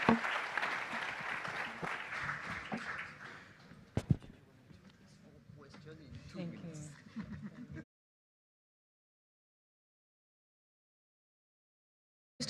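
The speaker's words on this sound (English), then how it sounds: "A round of applause for our panel showcasing the future." Applause from the audience for a panel at the South Africa Green Hydrogen Summit 2022 in Cape Town: a dense roomful of clapping that thins after a few seconds into quieter hall noise, then cuts to silence.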